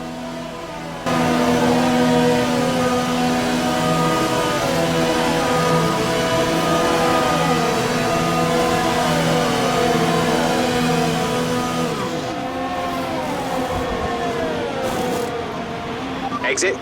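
Formula One race car engine in the F1 2020 video game, a steady high-pitched drone held at pit-lane speed limiter pitch, loud and continuous, with a slight shift near the end as the car moves through the pits.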